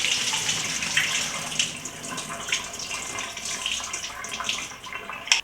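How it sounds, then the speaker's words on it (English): Tap water runs steadily into a sink while fresh fish is rinsed under it, giving a continuous close splash with small shifts in the flow. "Rinse it one more time with plain water."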